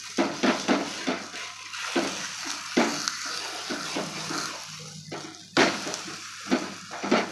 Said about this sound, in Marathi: आता आपण तेल लावून हा पहिला पराठा आपण मस्त दोन्ही साईडने शेकून घेणार आहोत